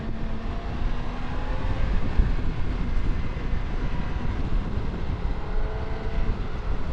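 A continuous, loud engine roar from a 2022 BMW K 1600 GT motorcycle at about 80% throttle, a broad, rushing intake growl, steady throughout and heard from close by, with no talking.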